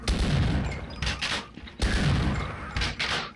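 Shotgun blasts in Half-Life: Blue Shift, two heavy booming shots with a short echoing tail, close and loud, spaced about two seconds apart, with smaller reload clatter between them.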